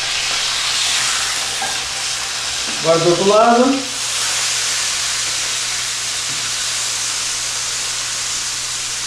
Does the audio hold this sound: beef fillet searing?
yes